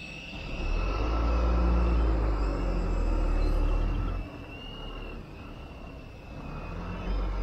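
An XK5 Chinook RC helicopter flies close by, its motors giving a loud, steady whirring drone with a thin high whine, which dips in level partway through and then swells again.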